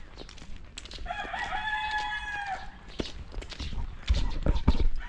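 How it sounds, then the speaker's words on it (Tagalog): A rooster crows loudly and nearby, one long harmonic call that trails off, with clip-clop knocks and rustling afterwards in an outdoor rural setting. "Puro mga ibon oh."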